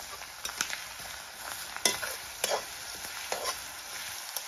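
Onions frying in hot oil with panch phoron spices, sizzling softly and steadily close by while a spoon stirs and scrapes the pan in a few brief bursts, with no talk.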